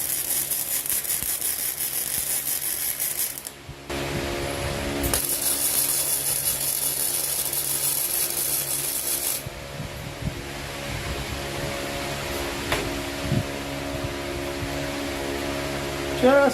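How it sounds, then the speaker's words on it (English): A welder plug-welds a steel trolley mating plate, giving a loud steady crackling hiss that starts abruptly, cuts off, then resumes. Softer clanks and shop noise follow. "and I'm going to plug weld."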